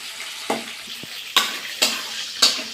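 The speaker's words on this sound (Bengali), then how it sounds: "দেখুন, আমি উল্টে পাল্টে বেশ একটু ভেজে নিচ্ছি।" Meat sizzles steadily in a hot pan while a utensil scrapes and turns it in four sharp strokes, close and fairly loud.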